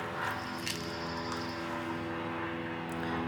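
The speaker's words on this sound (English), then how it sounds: "And there goes another airplane." A fixed-wing airplane passes overhead outdoors, a steady, moderately loud engine drone with a sustained hum, heard alone without talking.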